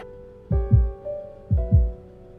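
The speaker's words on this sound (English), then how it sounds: "can you hear my heartbeat?" A deep, muffled game heartbeat effect from Love and Deepspace plays as two paired lub-dub thumps about a second apart over a soft sustained tone, with no talking.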